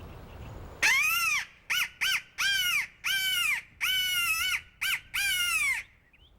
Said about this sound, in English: we use this crow call and it worked well for us